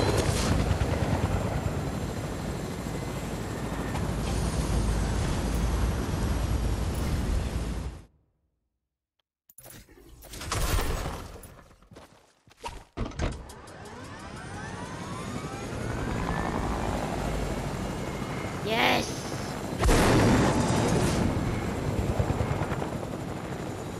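Video game helicopter in creative mode, a steady rotor and engine drone that cuts out abruptly, then returns with fluttering blade chop and a rising whine as it changes speed.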